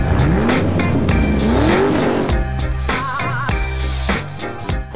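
A car pulls away and accelerates down the road, its engine revving loudly with rising pitch sweeps through the gears, close and continuous with no voices.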